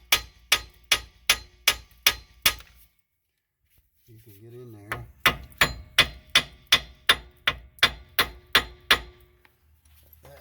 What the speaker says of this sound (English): I do like to take a hammer and come and vibrate it.